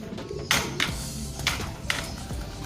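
Soft, low cooing from racing pigeons continues through the clip, with a few brighter bursts like wing flaps or scuffles at intervals.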